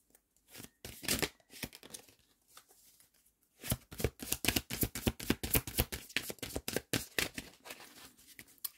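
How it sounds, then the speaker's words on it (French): Tarot cards being shuffled and handled, a crisp run of rapid riffling and flicking card strokes, close and fairly loud, with a quieter patch of sliding and tapping before the main shuffle, no voices. "on va prendre une deuxième carte pour confirmer tout ça"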